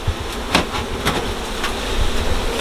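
A steady buzz of honeybees hums close by as shaken bees are put into a hive during colony management, with a few sharp knocks and taps breaking through the drone.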